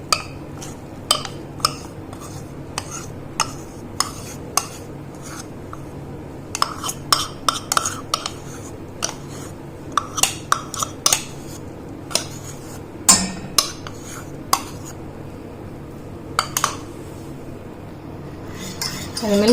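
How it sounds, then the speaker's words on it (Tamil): A whisk scrapes and clinks against a metal pan of mango pudding mixture with milkmaid in irregular bursts, with a quiet stirring texture between the sharper taps. "நல்லா கிண்டி விட்டுட்டே இருங்க"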